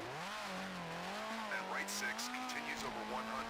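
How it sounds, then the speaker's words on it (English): A rally car engine in a Colin McRae: DiRT video game drones steadily with rising and falling pitch as tires squeal in short bursts on wet tarmac, close and continuous. "Car sounds good."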